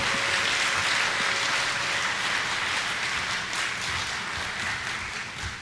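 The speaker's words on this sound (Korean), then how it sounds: "목사님 나오실 때 우리 큰 박수와 함께 환호성으로 모시겠습니다." A church congregation applauds and cheers to welcome a pastor, a steady dense wash of clapping and crowd noise holding at full level for several seconds without a break.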